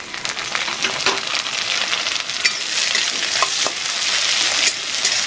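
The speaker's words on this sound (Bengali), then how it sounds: "এর মধ্যে দিয়ে দেব কুচিয়ে রাখা টমেটো।" Chopped tomatoes sizzle and fry in a pan of reddish-browned onions while being stirred, a steady close hiss with scraping strokes throughout, no voices.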